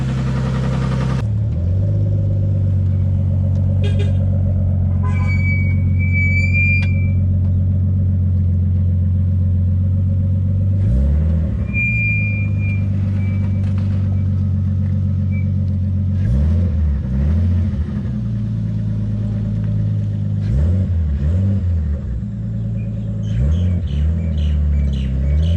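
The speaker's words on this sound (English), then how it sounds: "We're in the car, the vehicle, and it's idling good." A Nissan R32 Skyline's RB25DET engine idles steadily with a low, continuous rumble, occasional faint chirps and squeaks on top, and slight rises in revs; the car's clutch has stopped working.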